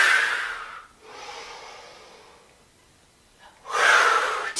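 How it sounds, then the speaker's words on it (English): During a yoga forward fold, a person exhales strongly, close and loud. A softer, longer airy breath follows, then another forceful exhale. "Exhale it down."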